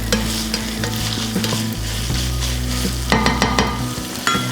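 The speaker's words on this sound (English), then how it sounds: "I'm just going to stir that in together with the ground beef that we browned here." Sautéed onions being stirred into browned ground beef in a pot for bacon cheeseburger soup, with a loud steady sizzle and repeated scraping strokes of the spoon, close by and with no talking.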